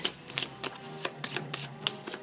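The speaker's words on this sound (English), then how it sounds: "Shuffle, shuffle, shuffle, shuffle, shuffle, shuffle, shuffle." A deck of game cards for the board game Kingdom Death: Monster is shuffled close up, a run of quick crisp riffles and slaps in an irregular rhythm, alone without talk.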